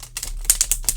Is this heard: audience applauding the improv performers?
no